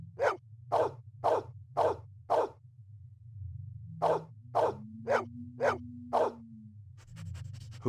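A dog in the 1997 Blade Runner video game barks in two sharp bursts, five evenly spaced barks, a pause, then five more, each loud and close over a low steady background hum.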